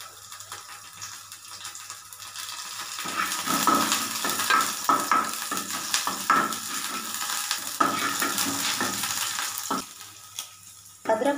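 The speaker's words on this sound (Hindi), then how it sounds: "अदरक लहसुन को थोड़ा सा हम पका लिए हैं 1 मिनट के लिए।" Ginger and garlic fry in a pan for a momo chutney, with a steady close sizzle and intermittent scraping stirs throughout, no talking over it.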